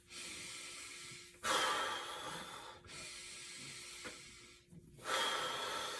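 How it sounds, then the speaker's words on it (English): Heavy, deliberate breaths from a person balancing on a wobble board while working with a rope: loud, close exhalations and inhalations in a slow rhythm, with brief quiet pauses between the strong bursts. "Breathing. You're aware."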